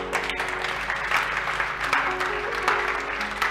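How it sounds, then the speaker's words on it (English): Congregation clapping hands together during a church sermon, a steady continuous wash of many claps filling the room, fairly loud and even with faint murmurs underneath. "Begin to clap your hands."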